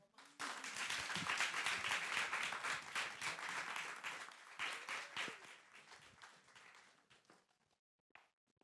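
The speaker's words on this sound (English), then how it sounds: "So I want y'all to clap it up." Studio audience applause on a live talk show swells loudly, holds for several seconds with dense crisp clapping, then thins into scattered claps before fading out, with one last lone clap near the end.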